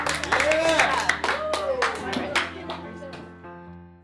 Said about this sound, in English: Everybody clap for Kalia and Jennifer and yourselves.